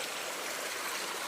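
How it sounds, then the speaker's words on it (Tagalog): Clear creek water flowing through a forest, a steady close rushing and trickling babble that fills the whole short moment with no voices. "meron tayong nakita isang creek o sapa."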